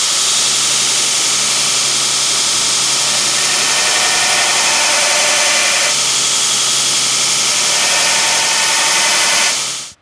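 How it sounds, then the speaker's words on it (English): A belt grinder, running slowed down, grinds a fossil Damascus kitchen knife blade with a loud, constant abrasive roar that holds steady throughout and then cuts off abruptly at the very end. "I've got the grinder slowed down, and I'm just going to try to get my bearings before I really lay into this blade"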